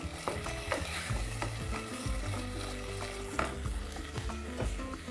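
Onions frying in a pot for onion soup, with a soft sizzle beneath a low hum and occasional clinks and scrapes of a utensil against the pot, nearby and fairly quiet.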